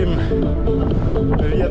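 Strong April wind in Crimea roars and buffets the microphone in a steady, close, low rumble throughout a road journey, with a voice speaking over it.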